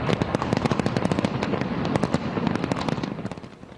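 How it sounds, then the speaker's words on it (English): A New Year's Eve fireworks display launched from the world's tallest building in Dubai, heard as a rapid, continuous crackle of loud bangs and pops rolling on without pause, thinning slightly toward the end. "A spectacular display of fireworks and laser beams in Dubai from the world's tallest building."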